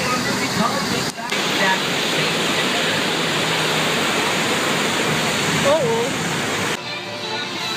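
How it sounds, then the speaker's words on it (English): A flash flood water effect at Universal Studios roars as a dense, steady rush of pouring water that fills the whole stretch, with crowd noise faintly underneath. "we use that exact same flash flood effect for a movie called Big Bang."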